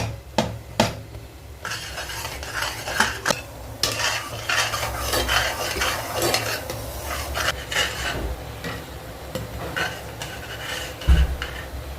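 A spoon stirs milk powder into hot milk and ghee in a pan for a Diwali sweet, with steady scraping and clinking against the metal, irregular knocks, and a soft simmering sizzle underneath, close and continuous.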